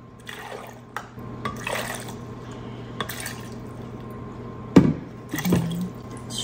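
Water being poured into a container for a detox drink made with lemon, ginger, pineapple and cucumber, heard as a few short splashing and trickling bursts close to the mic, with quieter gaps between them.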